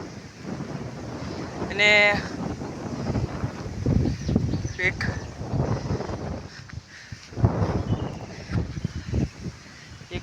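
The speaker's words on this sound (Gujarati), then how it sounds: "એકદમ મસ્ત ઠંડી ઠંડી હવા આવે છે" Cool breeze blowing outdoors in a village, rushing and buffeting against the microphone as a steady, rough roar while someone talks over it.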